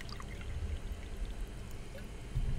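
Water poured into a glass, a soft steady gurgling stream heard close by and alone, quiet but continuous for a couple of seconds.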